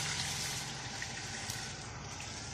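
Marinade thinned with water pours into a pan for pork tenderloin hamonado, a soft continuous splashing gush that stays fairly quiet and steady throughout, with no talking.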